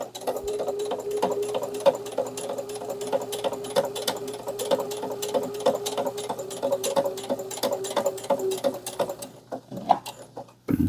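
A sewing machine stitches fabric for a tea coaster and a pouch in a long, fast, steady run of close, loud needle strokes, then stops near the end. No one speaks over it.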